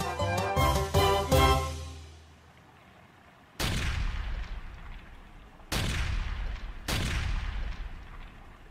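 Gunfire in a Fullmetal Alchemist drama CD, with a quick rattle of ringing shots and a resonant tail, then three loud separate heavy blasts after a pause, each decaying slowly.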